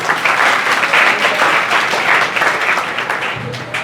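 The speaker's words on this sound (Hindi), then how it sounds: "आप तालियां बजा सकते" A group class in Vishwas Nagar, Delhi claps together: a dense, steady burst of many hands clapping that holds loud and even for about four seconds, with no talk over it.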